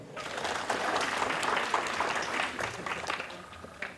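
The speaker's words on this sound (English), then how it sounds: "clap for yourself" A crowd claps steadily for a few seconds, a dense wash of applause with faint voices mixed in.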